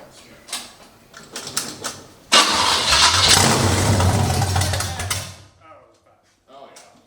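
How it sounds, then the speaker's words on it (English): A Ford Model A engine cranks and fires into a loud, rough running roar that lasts about three seconds, then drops away. People talk before and after it. "And cut to the car firing up."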